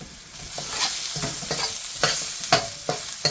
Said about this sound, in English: we're just going to give that all a good stir. Next, in with the jalfrezi onions.